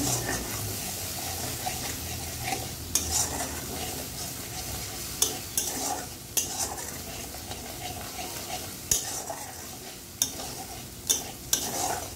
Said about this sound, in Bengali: এবার দিয়ে দেবো পোস্ত বাটাটা। পোস্ত বাটার মধ্যে আছে একটু হলুদ, হলুদ দিয়ে পোস্ত বাটার মধ্যে দিয়েছি। এবার একটু কষিয়ে নেব।